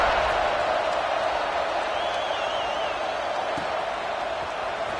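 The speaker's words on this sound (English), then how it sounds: "this crowd is buzzing after that last score" Stadium crowd in College Football 26 keeps up a steady, dense roar after a score, a continuous wash of massed voices that stays even and fairly loud for the whole stretch, with no clear talk on top.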